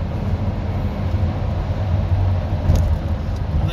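A Dacia Duster 2 dCi 110 diesel with EDC automatic gearbox accelerates hard after a smooth kickdown from fourth or fifth to second or third to pass a lorry, a loud steady engine and road drone heard from inside.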